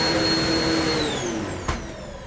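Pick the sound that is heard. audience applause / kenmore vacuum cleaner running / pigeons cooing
kenmore vacuum cleaner running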